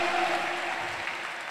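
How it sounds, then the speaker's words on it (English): Church congregation clapping hands at a worship service, a steady dense wash of applause with a faint sustained tone, fairly close and even throughout the short stretch. "somebody clap your hands to Jesus"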